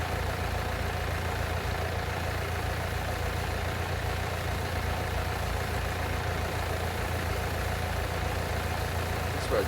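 A tractor engine idles in Farming Simulator 19, a steady, even mid-to-low rumble that holds unchanged throughout with no other sounds on top.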